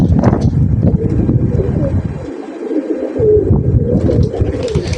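Pigeons at a Baku racing pigeon club, a dense low cooing murmur from many birds, loud and close, with wind buffeting the microphone.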